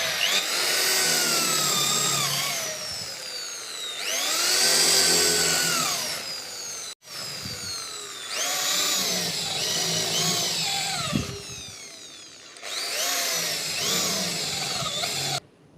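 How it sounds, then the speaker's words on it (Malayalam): A power drill bores holes in an aluminium pergola profile, whining loudly in several long runs with rising pitch as the bit cuts through metal, separated by brief pauses. "അപ്പോൾ പരമാവധി എൻഡിലാക്കി തന്നെ ഹോൾ അടിക്കുന്നുണ്ട്."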